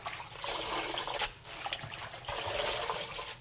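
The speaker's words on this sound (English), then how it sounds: "she'll wash it, right, and then dump the water into the Our garden. pots." Water poured out of a container after washing freshly harvested kale, tipped into garden pots outdoors; a steady close splashing trickle that runs for the whole few seconds with a brief dip midway.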